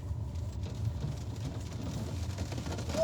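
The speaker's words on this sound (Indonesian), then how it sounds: "Hujan." Rain falls steadily as a low, dense wash, a continuous rumbling patter filling the background with no talk, swelling slightly louder at the very end.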